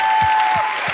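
Audience applause at the Goldene Henne 2023 gala for the Kinderhospiz Magdeburg team, a loud dense wash of clapping from a large hall with a sustained musical tone and low thumps beneath.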